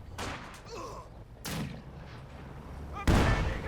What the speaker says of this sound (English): another big shell from their mortar